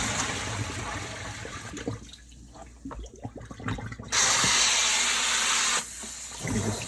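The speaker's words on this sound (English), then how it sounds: "now let me just dump this water out" Water is poured out of a bowl of soaked eggplant, a rushing splash of a couple of seconds that follows quieter clinks and handling noises, then trails off into faint movement.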